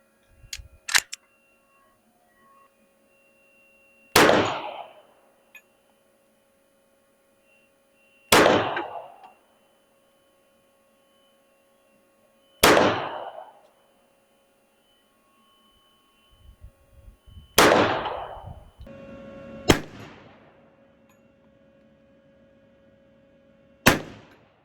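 Five loud, sharply separated pistol shots from a Hi Point JHP .45, the final magazine, each a hard crack with a short ringing tail, spaced about four seconds apart, with a faint steady hum between them.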